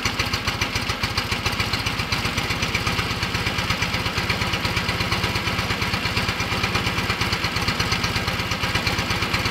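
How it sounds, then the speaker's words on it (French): A Fiat 500 engine idles steadily with a fast, even, loud putter while its ignition distributor is turned by hand during timing adjustment, with no voices heard. "dès qu'on fait pivoter manuellement la tête d'allumeur, le régime moteur change"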